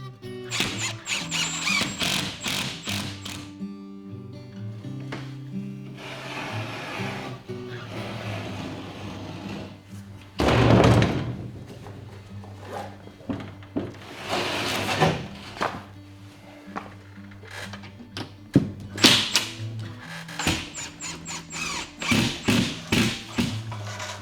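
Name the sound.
drywall sheets being moved and handled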